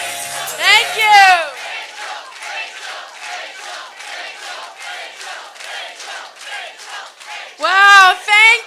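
Crowd at a political rally in Calgary cheering and shouting loudly, with bursts of roaring near the start and again near the end, and sustained excited cheering between.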